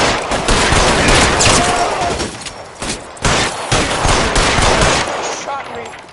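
Loud L.A. Noire gunfire rattles in fast bursts, close and heavy, with short gaps between volleys and brief shouted voices mixed in.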